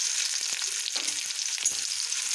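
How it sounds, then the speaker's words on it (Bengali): Onion slices frying in hot oil with a little sugar, a steady bright sizzle running throughout with a few soft scrapes and clicks of stirring. "পেঁয়াজটা আমি খুব ভালো করে ভেজে নেব।"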